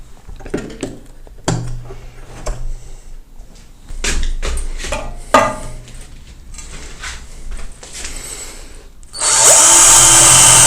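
Power drill with a Bosch bit boring a 4.8 mm hole, bursts of whirring and grinding that build into a loud, steady drilling roar near the end, close up with no talking.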